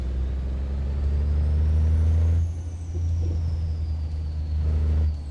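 A truck engine in a convoy driving video game gives a loud, steady low rumble that swells and eases slightly, with faint higher whine above it and no talking.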